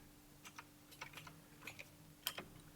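Typing on a computer keyboard: a quiet, irregular series of soft key clicks in small bursts over a low background hum, with no voices.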